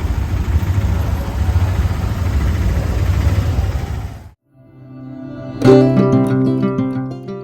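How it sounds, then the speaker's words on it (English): An Italian-made Piaggio tuk-tuk engine runs loud and close, a steady rough idle that cuts out abruptly before a brief restart. "we have an actual Piaggio tuk-tuk, actual Italian made one."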